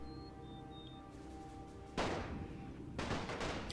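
Gunfire from a World War One battle in the strategy game The Great War 6.0: two dense, loud bursts of volleys crash in over a steady battle hum and keep rumbling on.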